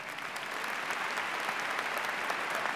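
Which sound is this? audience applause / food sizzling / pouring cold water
audience applause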